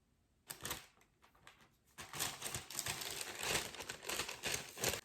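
Kraft paper wrapped around a book being torn and unwrapped close up, a faint rustle followed by brief crinkles, then a longer run of loud crackling and tearing.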